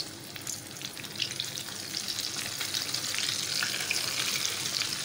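Onion rings coated in cheesy breadcrumbs deep frying in hot oil, a dense, continuous bubbling sizzle close up that swells slightly louder as it goes on.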